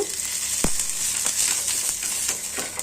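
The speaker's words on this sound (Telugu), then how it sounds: "ఫస్ట్ అయితే ప్యాన్ పైన కొంచెం ఆయిల్ వేసేసి ఉల్లిగడ్డతోనైతే మంచిగా రుద్దుతున్నాను" Oil sizzling steadily on a hot dosa pan as it is rubbed with a cut onion, a close, continuous frying hiss with a few soft scraping ticks and no talking.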